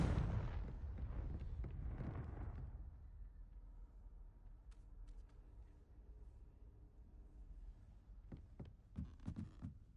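A Confringo blast spell goes off in Hogwarts Legacy, a loud, broad explosive burst with rumbling decay in the first few seconds, then quieter sharp pops and cracks near the end.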